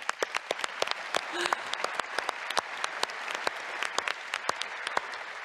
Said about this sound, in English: So a round of applause for the community.